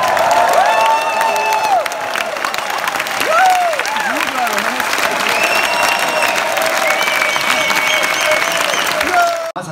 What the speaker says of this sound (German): Applaus, Jochen Schweizer!